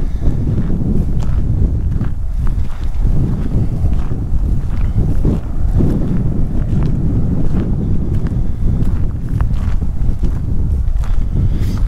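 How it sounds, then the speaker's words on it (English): Wind gusts buffet the microphone outdoors in a continuous, loud, rough roar, with scattered thumps like footsteps beneath it and no talking. "The wind's starting to pick up."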